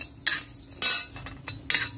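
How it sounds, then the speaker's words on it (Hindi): Panch phoron whole spices roasting in a wok, with three sharp metal spatula scrapes and clinks against the pan over a quiet background. "तो ये हम डाल दे रहे हैं पचफोरन एक आध मुट्ठा, इसको हम थोड़ा भून ले रहे हैं"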